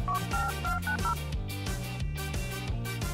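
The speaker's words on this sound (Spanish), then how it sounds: "Carguemos mi teléfono y llamemos al 911." Touch-tone telephone keypad tones dialing an emergency number, a quick run of short beeps followed by a steady rhythmic pattern of tones, loud and close over a musical background.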